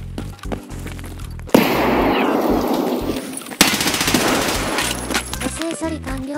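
A grenade blast inside a small room of a building in the video game Escape from Tarkov: a sudden loud burst swells into a roaring noise, a second sharp burst follows about two seconds later, with game tones beneath.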